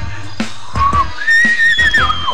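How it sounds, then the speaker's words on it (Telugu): A whistle blown repeatedly in a Telugu comedy scene, several short rising and falling shrill tones in quick bursts, with a long sliding blast near the end, close and loud. "విజిల్ అపరా."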